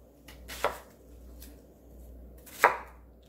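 A knife cutting a pear on a board while making radish and napa cabbage kimchi, two distinct sharp chops a couple of seconds apart over a quiet background.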